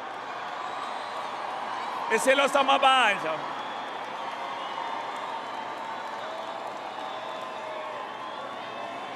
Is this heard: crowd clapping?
yes